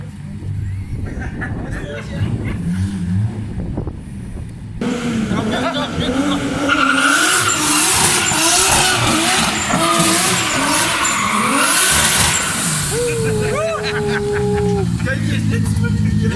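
Nissan Skyline R33 "Godzilla" making over 300 kW on low boost doing burnouts, its engine roaring and tyres squealing loudly and continuously up close, with a long wavering screech and people talking over it.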